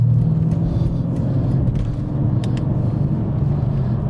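A Mercedes CLS55 AMG engine pulls steadily under load through a 40 to 60 overtake, a loud, continuous low rumble and whir heard from inside the car with no talking over it.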